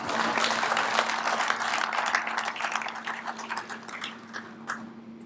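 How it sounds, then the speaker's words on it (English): Applause from an audience at a city State of the City address: loud, dense clapping that gradually thins and fades into scattered claps, with a faint steady hum underneath. "yes, you can clap."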